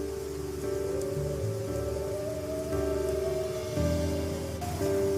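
Steady rain in an animated cartoon film, a continuous soft hiss running throughout beneath sustained musical tones, with no voices.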